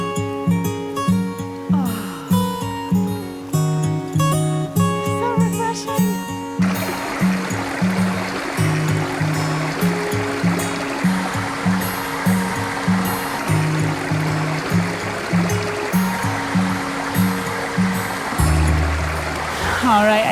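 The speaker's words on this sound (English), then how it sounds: "Here, running water." A river's running water rushes in a steady wash, close and fairly loud, with a rhythmic tonal musical pattern running over it from start to finish.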